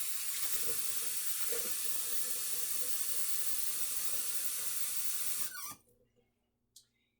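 Lukewarm water pours steadily from a tap with a hissing rush for several seconds, then shuts off abruptly, leaving near silence and a brief faint clatter.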